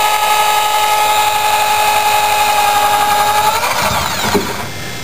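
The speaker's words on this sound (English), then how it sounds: "squeezing the trigger on the drill, the voltage is going up very little" Electric drill running steadily under a squeezed trigger, powered through an MPPT controller, giving a loud continuous motor whine that shifts and tapers near the end.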